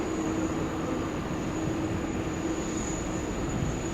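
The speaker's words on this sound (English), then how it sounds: "We've now got Japan Airlines rolling on 6 left" Japan Airlines airliner rolling for takeoff on runway 6 left at Sydney Airport, a steady distant broadband roar with a faint whine, constant and unbroken throughout.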